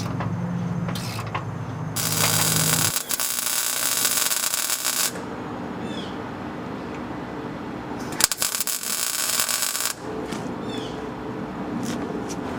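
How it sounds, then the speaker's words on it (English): Tack welding a leaf spring perch on a Ford F100 truck, with two bursts of crackling, sizzling welding separated by quieter mechanical shop noise. "He's tacking that perch in place now"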